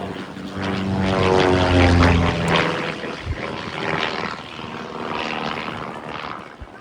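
Propeller-driven display aircraft pulling up through a manoeuvre at the 2025 Abingdon Air & Country Show, Dalton Barracks: a loud, steady droning engine roar with a rising, shifting pitch that swells and then eases slightly as it climbs away.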